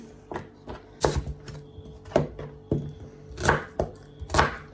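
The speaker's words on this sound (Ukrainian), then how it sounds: "І так само великими шматками просто її нарізаємо" Hot peppers being chopped into large pieces with a knife on a cutting board, a series of sharp, irregular thuds and cuts, close and fairly loud, with no talk.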